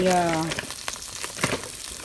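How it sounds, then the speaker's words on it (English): Brussels sprouts frying in a pan, a continuous close sizzle with a few soft knocks and stirring scrapes, following a brief voice-like tone at the start. "I'm putting my Brussels sprouts in."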